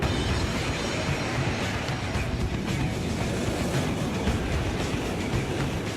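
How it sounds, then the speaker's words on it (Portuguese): A Japanese Shinkansen bullet train roars past at over 300 km/h in a dense, steady rush of broadband noise, loud and close, with no letup for several seconds. "o trem-bala do Japão, o Shinkansen"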